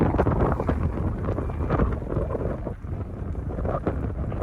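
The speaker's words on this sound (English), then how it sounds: "you can feel the wind up here too" Steady wind buffeting the microphone high in a mountain town, a loud broadband rush without voices.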